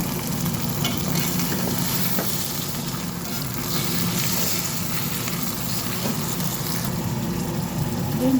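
Chicken pieces sizzle in a pan while cooking arabic-style apritada, a dense continuous frying hiss with occasional stirring clatter, close and steady throughout.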